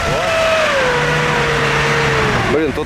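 Volga SUV engine held at full throttle off-road, a loud sustained drone whose pitch rises then slowly drops over several seconds, with a brief shift near the end and other noise mixed in.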